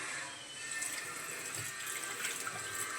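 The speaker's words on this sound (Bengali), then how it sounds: "এখানে দেখো জলটা ভরতেছি" Water runs steadily from a tap, filling a container with a continuous close splashing rush and no talk.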